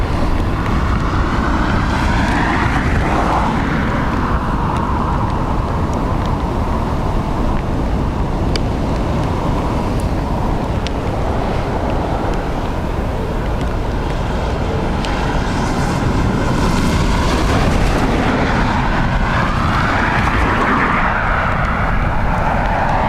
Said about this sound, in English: private Bombardier inbound next.